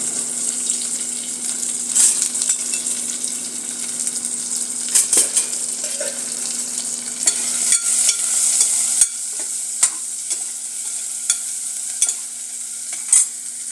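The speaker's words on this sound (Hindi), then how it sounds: "तो पहले डालेंगे प्याज, और इसको हल्का सा सौटे करेंगे।" Onion sautéing in a pan for a millet khichdi, a continuous loud sizzle with scraping stir strokes and a few utensil clicks, no talking.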